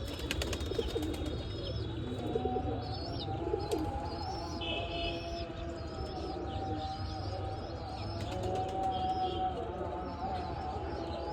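Pigeons and chickens kept together give off a steady wash of soft cooing and scattered chirps, heard against a constant background hum with no speech.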